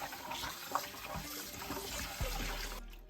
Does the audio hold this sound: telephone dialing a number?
no